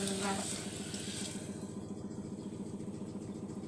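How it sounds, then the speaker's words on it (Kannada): Water pours steadily into a pot of rice during cooking, a close, continuous gushing flow that holds at an even level for a few seconds. "ಫ್ರೆಂಡ್ಸ್ ಇವಾಗ ನೀರು ಹಾಕ್ತಾಯಿದ್ದೀನಿ ನೋಡಿ."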